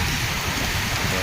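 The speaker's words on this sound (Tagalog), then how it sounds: "Ang lakas ng ulan araw-araw na dito umuwan sa Cebu." Dense, constant heavy rain in Cebu hisses loudly without pause, a thick wash of noise filling the whole moment.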